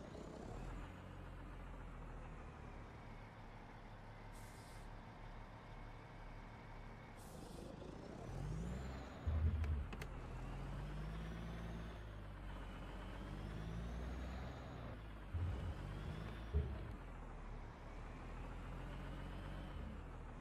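In Euro Truck Simulator 2, a truck couples to a trailer under a steady engine idle, with short hisses and a couple of thumps from the air brakes and hitch, all at low level.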